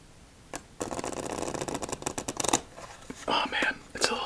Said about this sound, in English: Let's see our final shuffle and how we do.